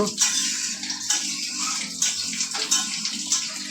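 Water runs from a tap indoors in a steady splashing stream, with repeated clinks and knocks of items being handled around the basin.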